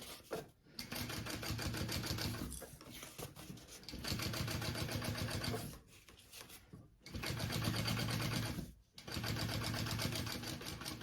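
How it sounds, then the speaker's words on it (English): A sewing machine runs in long steady bursts, top stitching a bottom panel piece of a bag with a lengthened stitch, its rapid mechanical whir stopping briefly between runs, loud and close. "I want to top stitch along this bottom panel piece"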